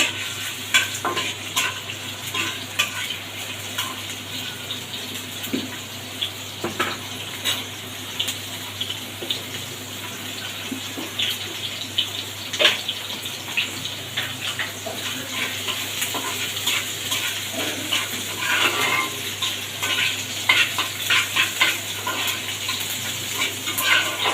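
Crushed garlic sizzles steadily in hot oil as a tempering for dal, with a spoon repeatedly scraping and stirring through it, close and continuous for the whole stretch.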